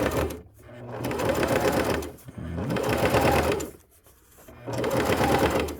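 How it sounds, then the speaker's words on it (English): Sewing machine top stitching around a fabric bag flap: three close bursts of steady, fast mechanical whirring, separated by brief pauses. "I'm just gonna go ahead and do a nice top stitch around"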